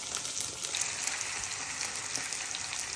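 Fritters (bora) deep-frying in hot oil give a steady, dense sizzle and crackle that stays even and close throughout.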